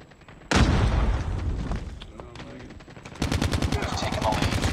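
A frag grenade blast and rapid gunfire in the mobile shooter Call of Duty Mobile, with a loud sudden boom followed by a sustained burst of automatic shots, then a second dense stretch of rapid fire.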